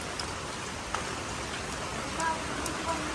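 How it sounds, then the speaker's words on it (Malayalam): Monsoon rainwater pours down steadily in a dense, even hiss of falling drops, close by and continuous for a few seconds, with faint voices in the background. "മഴ വെള്ളം ഇങ്ങനെ വീണോണ്ടിരിക്കുമ്പോഴേ വെള്ളം പോയില്ല"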